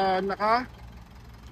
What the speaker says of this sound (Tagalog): So ito yung tunog ng makina niya.